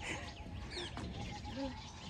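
Asian koel calling in Pobitora wildlife sanctuary, Assam, with a few short, fairly faint bird notes rising over a busy outdoor background and some voices.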